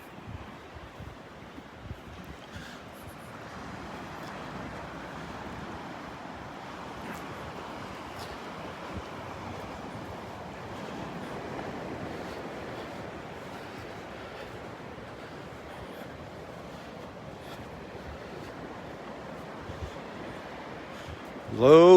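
Steady wind blows across the microphone on Vanderbilt Beach at low tide, a continuous rushing noise with soft surf blended underneath, ending in a sudden loud gust.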